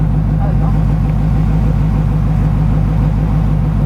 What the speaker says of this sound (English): I do have a little exhaust leak